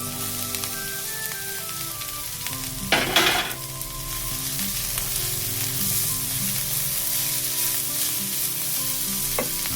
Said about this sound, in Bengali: আগে এটা একটু ভাজা হয়ে যাক, তারপরে আমি বাঁধাকপিটা দেবো এর মধ্যে